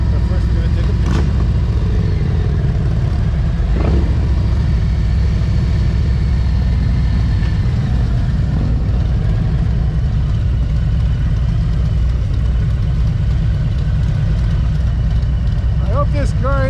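A car engine idles close by with a steady low rumble that runs unbroken throughout, and brief voices come in over it near the start and end.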